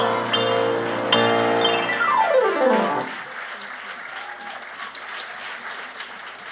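Audience clapping at a city's State of the Address gathering rises as a sung, held note with backing music winds down and ends, then the crowd's applause carries on alone, moderately loud and steady.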